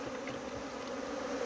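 Honey bees buzz steadily at a hive in Guyana, a dense, continuous hum filling the clip, close and even in level with no talk.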